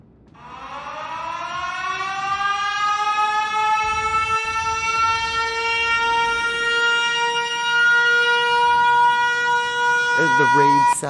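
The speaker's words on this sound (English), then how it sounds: "The raid siren." Raid siren alert from the naval battle game World of Warships Legends, a long rising then sustained wailing tone with rich harmonics that holds loud and steady for several seconds, ending in a brief rhythmic pulsing.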